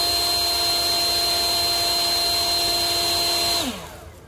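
A Greenworks Pro 80V battery backpack leaf blower runs at its cruise control setting. It gives a loud, steady electric whine with a constant high tone, then winds down as it shuts off.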